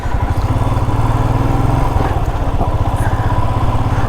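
Motorcycle engine idling at a highway toll booth on a Delhi to Sonamarg ride, a close, steady, loud putter with a fast even pulse and no pauses.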